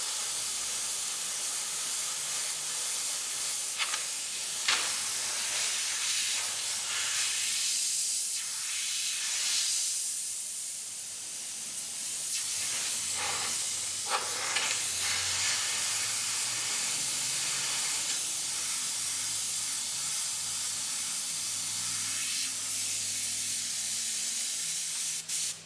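A paint spray gun hisses steadily, fogging orange paint onto sheet metal, with a loud continuous airy spray that briefly eases and then resumes in short bursts.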